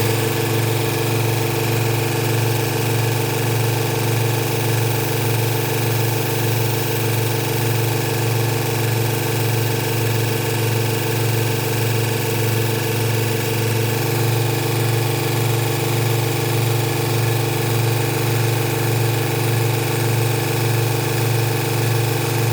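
A small belt sander runs continuously with a steady, loud mechanical hum and whine while gently feathering the edge of a split cane fishing rod.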